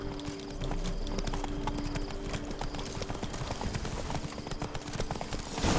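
In the Witcher 3 video game, Blood and Wine expansion, a horse gallops with rapid, continuous clip-clop hoofbeats that stay steady and fairly loud throughout, over a faint sustained background tone.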